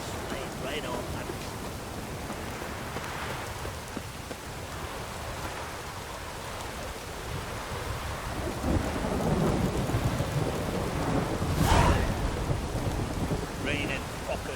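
Steady heavy rain pours throughout in The Witcher 3 video game, with a rumble of thunder building near the end and swelling louder before fading.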